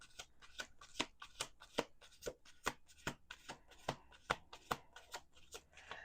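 A deck of playing cards is shuffled repeatedly, giving a quiet, close series of sharp papery riffles and taps, about fifteen crisp bursts in an uneven rhythm with no talking.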